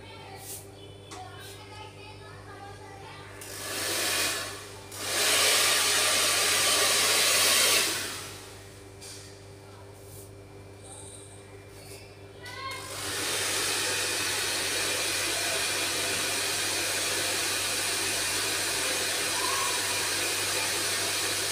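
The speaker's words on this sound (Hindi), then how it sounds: "देख लो मेरा राउंड रॉड क्या चल रहा है ड्रायर के साथ साथ" A hair dryer blows over hair styled with a round brush in a salon, starting in short bursts, then running as a steady close whoosh with voices in the background.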